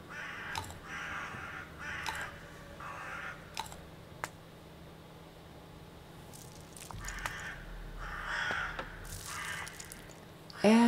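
Crows in the horror video game Bad Dream: Coma cawing in scattered bursts, several rough calls early and a couple more later, over a low steady ambient drone without speech.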